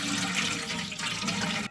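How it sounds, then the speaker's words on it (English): Room temperature water pours steadily into the water catcher of a fish smoker, a loud, continuous splashing rush that runs unbroken for under two seconds with no talking. "I got some room temperature water that I'm gonna fill the water catcher with."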